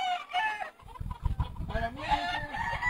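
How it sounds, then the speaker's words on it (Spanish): A hen at a fighting-rooster breeding farm in Peru clucks in short, close bursts, with a rooster crowing and other fowl calling around it. "Esta es una gallina de Mickey García."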